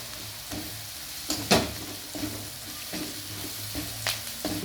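Half a spoon of turmeric roasting in a hot pan for patrichi bhaji, a medicinal leafy-vegetable dish: a steady low sizzle broken by several sharp scraping stirs, close and moderately loud with no talking.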